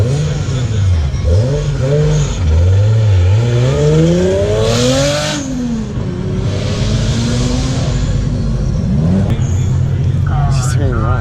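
Turbocharged car engine revving hard at an outdoor exhaust competition, loud and close with rising and falling pitch sweeps, a crowd murmuring underneath throughout.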